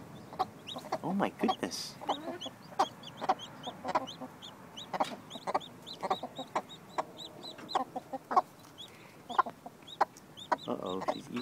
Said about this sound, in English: thought I'd been hearing little chicklet noises this whole time